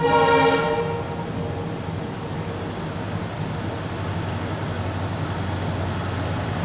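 A loud train horn blasts for about half a second at the start, then fades into a steady rumble of rail travel heard from aboard the Poorna Express in an AC 3-tier coach as another train approaches.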